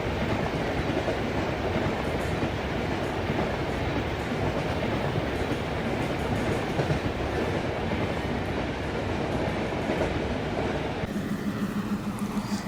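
A diesel train in an Indian Railways simulator game slows toward a 30 km/h limit, its steady broadband rumble of wheels and engine running continuously at moderate level, with a faint low hum appearing near the end and no voices.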